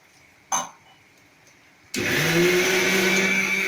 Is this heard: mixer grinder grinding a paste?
yes